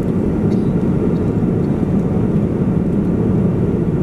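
Steady airplane cabin noise during flight: a loud, dense, low roar and rush of air that holds evenly without pause, with no talk.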